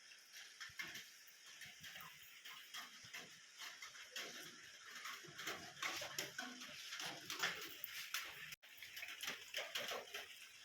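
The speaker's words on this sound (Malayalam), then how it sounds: "ചെറിയ മഴ" Light rain falling outdoors: a faint, steady patter and hiss of scattered droplets that runs for the whole stretch, with no voices.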